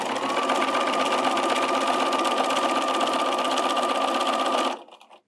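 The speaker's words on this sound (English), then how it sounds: "we're just going to go ahead to cover a couple of back stitches and sew all the way along" A sewing machine stitching a quilt binding strip with a 1/4 inch foot, running as a loud, steady, close whirring hum for several seconds before stopping abruptly.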